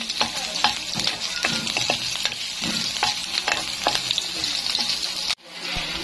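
Garlic fries in cooking oil in a pan, sizzling and crackling steadily at close range while it is stirred, for adobong sitaw, with a brief dip near the end.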